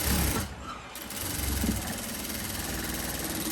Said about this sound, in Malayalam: ഈ ക്രോസ് പീസ് മീതേക്ക് വെച്ചിട്ടൊന്ന് പതിച്ച് തയ്ക്കുക